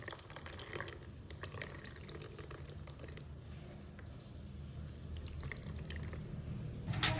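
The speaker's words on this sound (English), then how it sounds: "Squeeze out all the ginger juice." Grated ginger juice is squeezed through a cloth, giving faint close trickling and dripping of liquid over a quiet background, slightly louder at the end.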